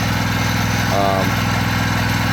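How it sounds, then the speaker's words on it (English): A Hustler Raptor 42-inch zero-turn mower with a Kohler engine cuts thick, overgrown grass, its engine droning steadily and loudly throughout with a brief tonal whine near the middle, and someone talks over it. "this mower, the Hustler Raptor, don't be afraid of it, because it has a Kohler on it"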